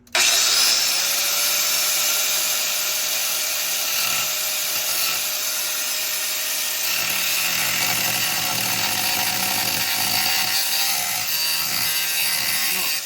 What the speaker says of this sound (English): we'll get that out with the grinder at an angle